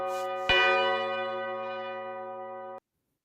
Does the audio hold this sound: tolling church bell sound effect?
yes